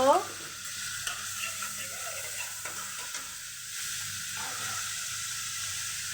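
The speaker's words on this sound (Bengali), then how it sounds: "দিয়ে এগুলো আগে একটু ভেজে নিব" Onion paste and ginger-garlic paste frying in oil with bay leaf and cumin, a soft, steady sizzle with a brief louder spatter at the start and faint stirring scrapes.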